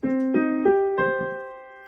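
A piano plays a sequence of sustained chords, each struck cleanly, with a brief sustain-pedal release breaking the resonance before the final chord rings and fades.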